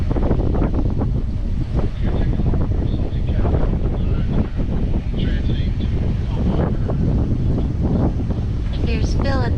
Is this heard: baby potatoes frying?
no